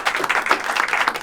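Audience applause at an improv comedy show, a steady burst of clapping from a live crowd lasting just over a second, fairly close and dense with no talk over it.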